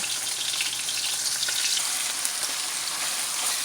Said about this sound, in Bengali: পেঁয়াজটাকে একটু ভেজে নিচ্ছি তেল দিয়ে